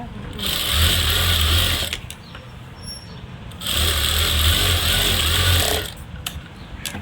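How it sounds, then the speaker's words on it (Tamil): Sewing machine stitching a cloth bag with white thread, two loud close bursts of fast whirring stitching separated by a pause, with faint clicks between runs. "இப்போ வெள்ளை நூலை போட்டு தான் தைக்கணும்"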